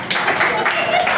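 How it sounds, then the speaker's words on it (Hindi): Students in a classroom lecture clap together in a brief burst of dense, lively applause, loud and close, while a teacher's voice talks over it. "ताली बजाओ जोर से"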